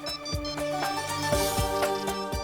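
A phone ringtone plays at a steady level, a melodic electronic tune with sharp repeating note attacks in an even rhythm, heard in a domestic scene with no voices over it.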